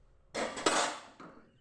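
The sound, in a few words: kadai (wok) being placed on the stove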